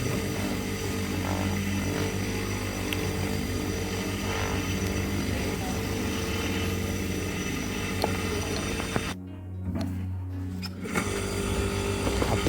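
A polishing machine whirs steadily as it buffs the underside of pink and white gold jewellery, a dense, constant motor whine with a brief dip in the middle and no voices.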